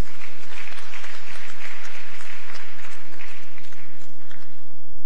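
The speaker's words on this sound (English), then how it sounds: "Let's give him a round of applause." Conference audience applauding, a dense, loud and sustained wash of many hands clapping that holds steady throughout.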